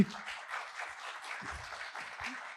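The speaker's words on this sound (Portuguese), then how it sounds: "Por favor, uma salva de palmas." Audience at a Brazilian cultural talk applauding, a moderate, steady patter of clapping hands over a couple of seconds.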